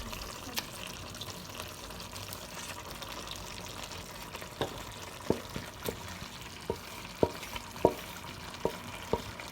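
Vegetables and crayfish are stirred into a pot of efo riro stew made with frozen spinach, a soft simmering hiss broken by a series of spoon knocks against the pot, which grow more frequent toward the end.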